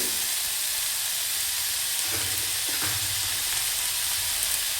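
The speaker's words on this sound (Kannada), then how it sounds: "ಸಾಫ್ಟಾಗಿ ಈರುಳ್ಳಿ ಬೆಂದ್ಕೊಳ್ಳಿ" Onions sautéing in a pan for radish sambar, cooked soft until browning, give a steady close sizzle and frying hiss, broken by a couple of low stirring scrapes, with no talking.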